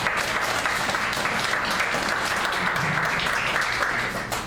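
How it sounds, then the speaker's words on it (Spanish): A church congregation applauds in steady, dense clapping throughout, loud and close with no pause. "Denle una ofrenda de palmas a Dios"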